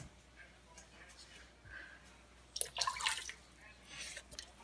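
Water is poured into a pot of chicken for Vietnamese pho, a faint splashing and trickling burst of about two seconds over quiet kitchen background.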